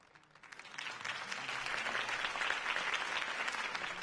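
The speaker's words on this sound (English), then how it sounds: "could have heard that applause" Video game crowd applause in a Batman game, swelling up from quiet into steady, dense clapping that continues loudly for several seconds.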